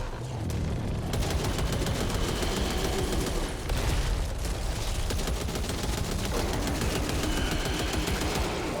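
Dense automatic and burst gunfire from the zombie shooter video game Back 4 Blood, loud and continuous with heavy booming low end and overlapping shots throughout, no speech.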